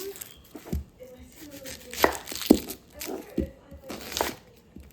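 Knife chopping onion on a cutting board, a few irregular crisp chops and slicing crunches up close, separated by short pauses.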